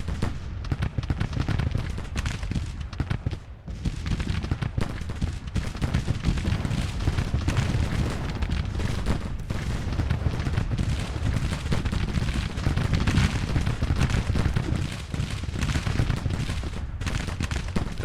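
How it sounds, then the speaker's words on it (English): Heavy artillery and infantry gunfire from a Civil War battle in the strategy game Grand Tactician, a dense continuous barrage of overlapping musket volleys and cannon booms, steady and loud throughout. "They're having a hard time getting across it under heavy artillery fire and heavy infantry fire"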